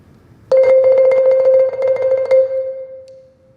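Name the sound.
hectic, uneven, very fast marimba roll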